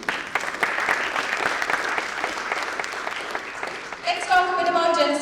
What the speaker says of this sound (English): So big round of applause to all of you.